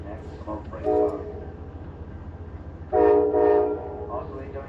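Amtrak Texas Eagle passenger train running, with a steady low rumble of the moving cars and two louder bursts of horn-like tone rising over it, the second longer, with faint talk nearby.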